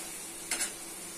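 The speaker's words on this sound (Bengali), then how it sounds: "দিয়ে দিচ্ছি চিংড়ি শুটকি, ভালো করে মশলা কষে নিতে হবে।" Spice paste with dried shrimp hisses in a pan, a steady close sizzle broken by one quick scrape of stirring.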